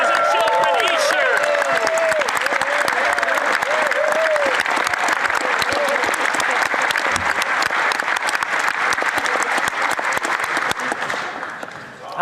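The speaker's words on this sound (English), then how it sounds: "See, even the Conservatives are cheering" Loud, sustained applause with some cheering in a parliament chamber, dense clapping from a crowd, with voices calling out early on, then fading toward the end.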